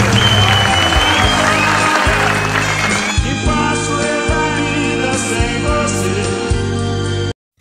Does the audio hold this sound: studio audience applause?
yes